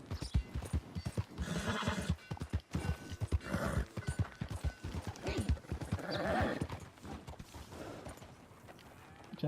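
Horse hooves clip-clopping in a steady gallop rhythm with occasional neighs and whinnies in the video game Red Dead Redemption 2, loud and close throughout with no talk.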